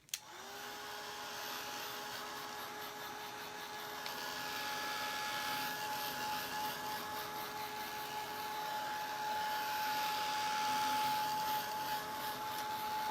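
A dryer aimed at freshly painted lemons, clicking on and spinning up to a steady whirring blow with a clear tonal whine, running continuously for about thirteen seconds and growing slightly louder, close up with no voices.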